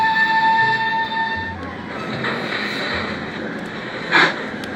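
A goods train engine departs with a wheezing sound, steady rail rumble and a tonal whine at the start, then a brief sharp hiss near the end, moderately loud with no clear talking.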